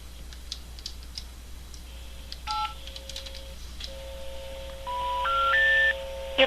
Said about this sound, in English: No, I'm dialing it.